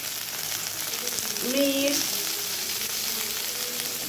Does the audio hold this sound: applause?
no